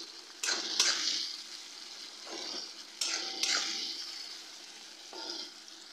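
Tomato frying in a pan with chilli, coriander powder and cumin powder for a Bihari-style egg curry, giving a soft steady sizzle with a few louder stirring scrapes at intervals, no talking.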